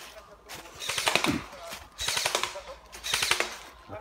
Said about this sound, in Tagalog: Lakas ng mga baril.